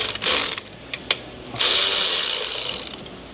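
Bolts being loosened on a Duramax LBZ 6.6 diesel engine with a hand tool. Short metallic clicks and ratchet taps come first, then a longer, brighter grinding rasp that slowly fades away. No one speaks.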